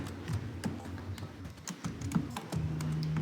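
Computer keyboard typing while configuring a Cisco router, with irregular soft key taps scattered over a steady low hum, fairly quiet and close, with no one speaking.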